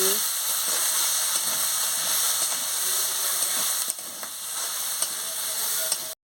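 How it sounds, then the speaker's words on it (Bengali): Ground spices frying in a pan for an eggplant and potato curry give a steady, close sizzling hiss that continues without a break and dips slightly near the end. "গুঁড়ো দিচ্ছি গুঁড়ো দিচ্ছি ভালো করে কষিয়ে নিচ্ছি"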